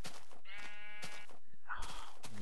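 A sheep in the Minecraft video game gives a couple of loud, close, wavering bleats, each a drawn-out nasal cry, with a short gap between them and no talking.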